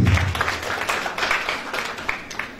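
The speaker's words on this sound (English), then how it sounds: "Please give them a round of applause." Applause from the crowd at a regional school competition, a burst of clapping with some individual claps standing out, fairly close and loud, easing slightly toward the end.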